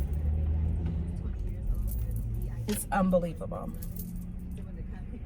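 Road traffic rumbles low and constant as a vehicle swooshes past nearby, while a person speaks over it.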